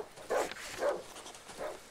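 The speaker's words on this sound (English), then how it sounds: "A dog." A dog in the Darkwood game lets out three short barks, spaced apart and fairly close, with nothing else sounding around them.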